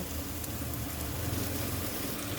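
Ginger, garlic, onion, turmeric and coriander fry gently in a pan, a quiet steady sizzle like light rain, continuous and faint with no voices.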